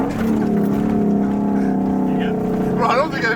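A side-by-side UTV drives fast down a trail, its engine droning loud and steady throughout with a rising, strained whine near the end.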